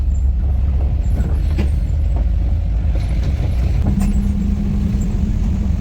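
A school bus on a village road idles with a low rumbling engine, with short hissing bursts and clunks like air brakes, close and loud, then a steady droning tone toward the end.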